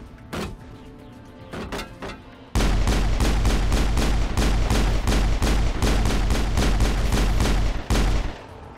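Gunfire at Geth in Mass Effect 1: a few separate shots, then a long loud burst of rapid, evenly spaced automatic fire with heavy low punch that cuts off cleanly, followed by a final short volley.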